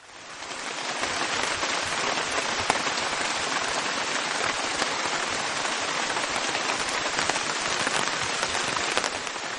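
Heavy tropical rain pours steadily onto a humid forest, a dense continuous hiss of drops with scattered sharper splats, loud and unbroken throughout.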